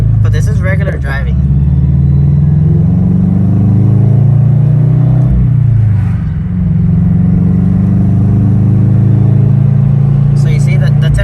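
A Toyota 86 fitted with a Jackson Racing dual radiator and oil cooler drives normally, its engine a steady low rumble with cabin road noise, a dip and swell around mid-drive, and brief talk at the start and end.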